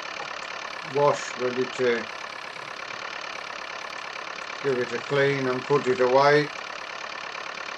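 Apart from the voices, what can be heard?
tractor engine idling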